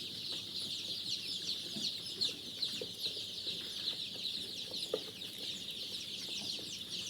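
Black chicks hatched in an incubator chirp constantly in a dense high-pitched chorus, close and steady, with faint clucks and rustling beneath.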